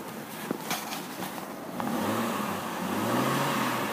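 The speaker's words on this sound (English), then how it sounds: "I'll let you listen to the motor." A 2004 Chevrolet TrailBlazer LS engine runs steadily at close range, its tone rising slightly midway as if given light throttle, with no talking over it.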